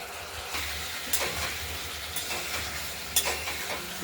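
Masala and oil sautéing for a rohu fish curry, a steady soft sizzle and hiss with occasional scrapes of stirring, close and moderate in level, no voices.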